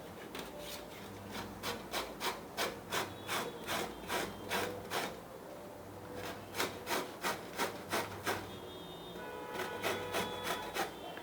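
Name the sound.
grating raw mango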